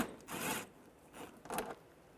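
A T25 socket works loose a screw between the bumper cover and fender of a 1998-2010 Volkswagen Beetle, two short ratcheting rasps close by with a quiet pause between them.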